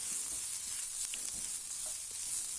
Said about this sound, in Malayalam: കുറച്ച് മല്ലിപ്പൊടി നമ്മൾ ആഡ് ചെയ്യുന്നുണ്ട്. അതൊന്ന് നന്നായിട്ട് ഇട്ട് ഇളക്കാം.